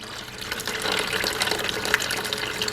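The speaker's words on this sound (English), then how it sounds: "So I just fill about a bucket of water up" Water gushes into a bucket for rinsing an aquarium filter and hose, a steady close splashing pour that holds at an even level throughout with no talk.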